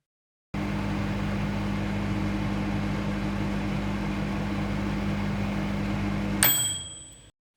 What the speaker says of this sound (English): That's a microwave.